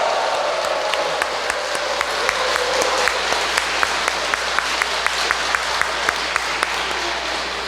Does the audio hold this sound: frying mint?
no